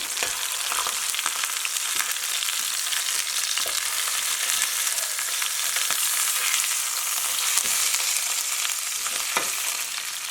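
Steady, loud sizzling of lamb shanks searing in a hot pan, with occasional soft clicks and scrapes from turning them, continuous throughout.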